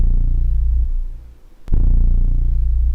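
A digitally processed bass recording made for game audio plays as a low, pulsing rumble, with a sharp click mid-way before the throbbing bass returns, alone with no talking.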